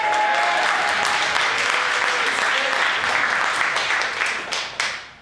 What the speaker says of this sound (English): Let's have a nice hand for all the students and the comics tonight.